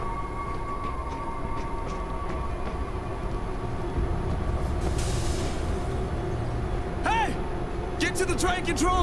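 Train in the zombie shooter World War Z starting up in a New York level, a steady rumbling mechanical hum with squealing tonal sweeps near the end, heard under loud game voices and effects.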